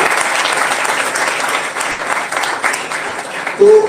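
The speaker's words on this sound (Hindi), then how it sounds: "हम बच्चों से चाहेंगे वह जोर से ताली" Schoolchildren clap loudly at a school event, a full, continuous round of applause that holds steady, with a brief voice cutting in at the very end.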